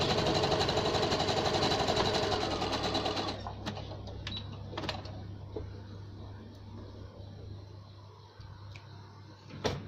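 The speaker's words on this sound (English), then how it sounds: "pop it there and just sew down over it." A sewing machine stitches fabric down in a steady, rapid mechanical whir for about three seconds, then stops, leaving faint clicks and handling sounds nearby.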